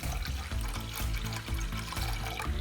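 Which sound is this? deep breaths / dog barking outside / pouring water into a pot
pouring water into a pot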